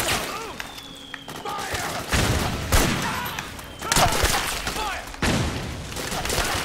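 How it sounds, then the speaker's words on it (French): Mortar fire in the video game Metal Gear Solid 4 booms in a battle scene, with repeated heavy blasts and thuds mixed with gunfire, loud and layered over a busy combat background. "mais il y a des tirs de mortier"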